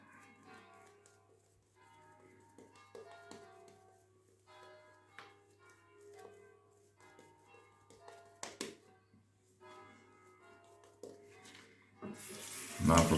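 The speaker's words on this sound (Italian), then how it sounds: "Un altro filo d'acqua." A thin trickle of water runs from a tap during a wet shave, alongside soft clinks and handling noises, with a louder gush of water at the end.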